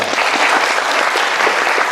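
Steady, full applause from an audience at a presentation competition event as a judge takes the stage, many hands clapping continuously and fairly close.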